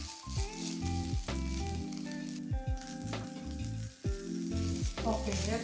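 Chicken pieces stir-frying in a hot pan, a loud steady sizzle with repeated stirring scrapes and clanks, close and continuous with no talking.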